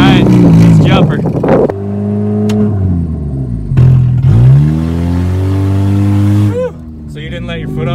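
A loud straight-piped Saturn car engine fires up and revs hard with a raw, unmuffled roar, pitch rising and dropping, while people talk briefly at the start and end.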